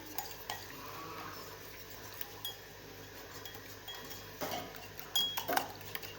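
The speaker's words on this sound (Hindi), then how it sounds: "इनको हम शामिल करके मिक्स कर लेते हैं।" A spoon stirs sugar, salt and black pepper powder together in a bowl, giving faint scraping and a few light clinks of metal against the dish, with no talking.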